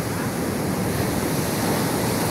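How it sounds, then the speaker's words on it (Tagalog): Sea waves wash steadily at the seashore, a dense continuous roar of surf and wind without pause, loud and close. "narito po ngayon tayo sa Tabing Dagat"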